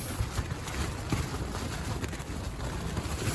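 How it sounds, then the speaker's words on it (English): Steady wind roars and buffets the microphone at a wild campsite, a constant rough rushing noise with occasional stronger gusts and no talking. "It's still quite windy"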